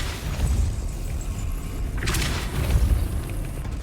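Depulso spell cast in Hogwarts Legacy, a deep booming thud with a bright burst partway through, rumbling low over the game's background sound.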